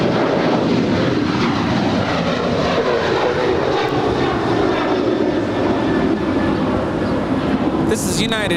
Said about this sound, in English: is United 783 departing to Washington Dulles. It's a 737-900 ER.